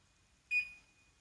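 A range oven's touch keypad gives one short, clear electronic beep as its timer is set, alone in a quiet kitchen.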